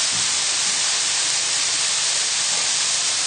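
Lamb mince hits a hot pan with softened onions and sizzles in a loud, steady, even hiss that holds without a break from start to finish.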